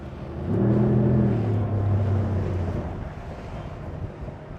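A Mercury XS Pro 4.6-litre V8 outboard on an SPX RIB 24 drones loudly with a low, throaty rumble over wind and rushing water, slowly fading a little as it moves along.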